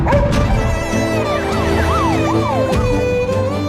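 An ambulance siren wails loudly in a movie trailer for the Hindi release of 777 Charlie, its rising and falling tone repeating close by, with a dog barking briefly alongside.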